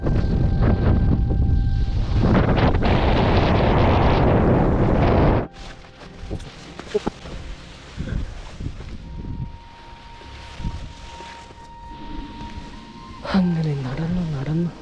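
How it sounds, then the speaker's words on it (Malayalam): Strong wind buffets the microphone on a mountain trek, a loud roaring rush for the first few seconds, then easing into quieter gusts with scattered talk and rustling. "നല്ല കാറ്റാണ്, ഒരു രക്ഷയില്ലാത്ത കാറ്റാണ്."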